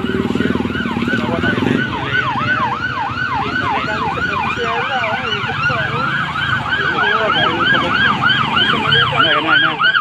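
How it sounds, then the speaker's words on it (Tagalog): Several ambulance sirens wail loudly and continuously in a steady rising-and-falling pattern, close by, over road traffic noise after a vehicle crash with a smashed windshield. "ayan na yung mga ambulansya oh"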